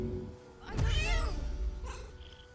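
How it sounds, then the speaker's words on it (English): A cat familiar in the video game Baldur's Gate 3 gives a single drawn-out meow, clear and up close, followed by a shorter, softer trailing cry over quiet game ambience. "Alright, we can meow at them."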